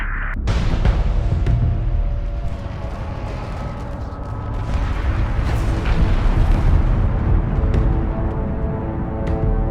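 A massive explosion as the ship Sakala is destroyed: a sudden loud blast that swells into a dense, sustained roaring rumble lasting nearly ten seconds, with no voices.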